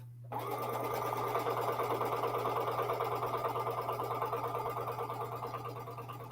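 A home sewing machine on a desk starts up and runs continuously, a fast even mechanical whir with rhythmic needle ticking over a steady low hum, close and alone.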